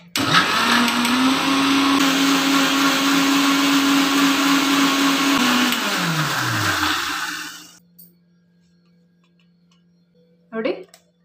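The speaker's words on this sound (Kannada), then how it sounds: "ಫೈನ್ ಪೇಸ್ಟ್ ಆಗೋವರೆಗೂ ರುಬ್ಕೋಬೇಕು।" A mixer grinder blends jamun fruit with seeds and water, running as a loud, steady high whine for several seconds before winding down to silence, followed by a short burst of speech.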